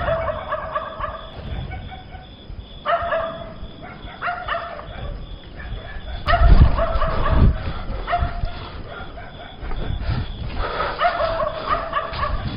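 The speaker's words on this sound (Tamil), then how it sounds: "நாய் குலைக்குது" A dog barks in several short bursts spread over the stretch, moderately distant, with pauses between the volleys and steady background noise.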